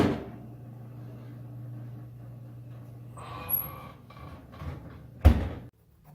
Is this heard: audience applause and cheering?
no